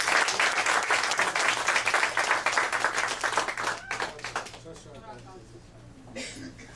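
Audience applause for children at a school event in El-Oro, a dense burst of clapping that stays loud for several seconds, then thins out and fades, with a faint voice and a steady low hum underneath.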